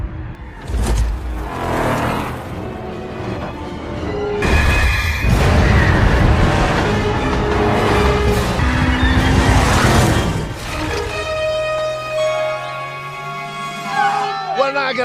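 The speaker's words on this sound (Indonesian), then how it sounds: "Kakek Eddie yang belum putus asa memutuskan untuk memutarbalikan mobilnya dan memacu mobil itu sekencang mungkin" A car in Jumanji: The Next Level swings around and races off at full speed, its engine revving hard with screeching tires and crashing impacts, under a voice speaking and movie music.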